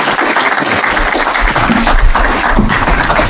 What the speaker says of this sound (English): We have another round of applause for Dr. Hartlep.